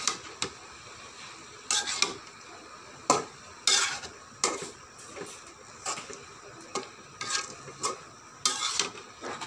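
Radish greens stirred in a wok: regular scraping strokes of a spatula against the metal, roughly one every second, over a low background sizzle, close and fairly quiet.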